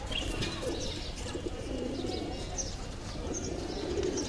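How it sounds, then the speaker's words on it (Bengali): Pigeons coo softly and repeatedly in a loft during breeding season, with a few faint chirps mixed into a steady low background. "প্রত্যেকটা কবুতর কিন্তু ডাকতেছে"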